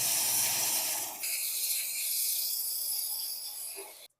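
An aerosol can of chain lube sprays onto a motorbike chain, giving a loud continuous hiss that dips briefly and resumes before cutting off.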